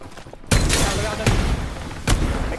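Gunfire in the Farlight 84 shooter game, a loud burst of rapid shots starting abruptly and continuing, with sharp louder cracks punctuating it about every second, over faint in-game voices.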